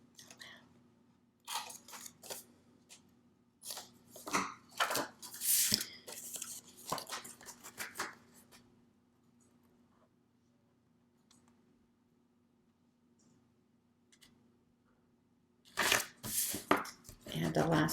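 Paper corners being trimmed on pieces for a cascading mini album, a series of short crisp snips and crunches in irregular clusters, close and fairly quiet, with a quiet gap in the middle before another burst of cuts.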